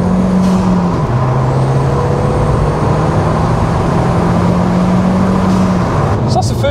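MK1 Audi TT 225 (BAM engine) fitted with an induction kit and heatshield, idling and running at around 2,000 RPM; a steady, close engine hum with a faint whistling tone, a brief pitch dip near the start, and clicks at the end.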